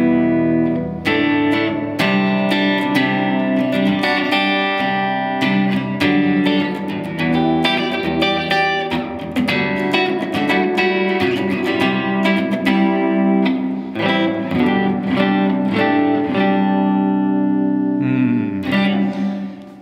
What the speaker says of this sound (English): that kind of gave me exactly what I wanted to hear with that 63 spring reverb